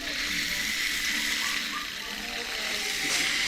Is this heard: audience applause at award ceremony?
no